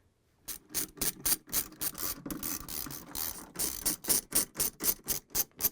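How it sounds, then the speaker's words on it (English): A ratchet fitted with a 7 mm socket backs out gearcase screws on a Whirlpool/KitchenAid/Maytag washer, giving loud, close, rapid clicking bursts in a steady repeating rhythm with no talk. "I'm putting on 7 millimeters head, and I'm going to take out these screws so we can remove the stator and the clutch."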